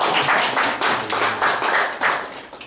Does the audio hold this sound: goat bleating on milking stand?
no